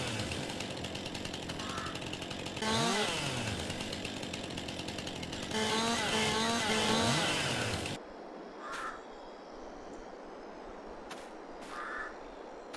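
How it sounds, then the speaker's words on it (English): Chainsaw in Farming Simulator 22, a loud steady buzzing engine with rising revving bursts that runs for several seconds and then cuts off abruptly, leaving quieter ambience with a few faint clicks. "the sound of the chainsaw just cuts off instantly"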